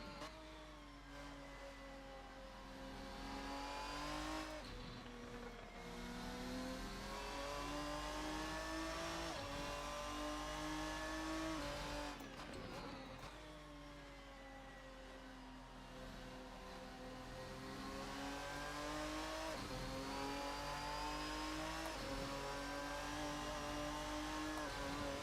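A GT1 race car engine roars in a racing video game, a sustained loud rising and falling drone as it revs through gear changes, with brief drops between shifts and no talk.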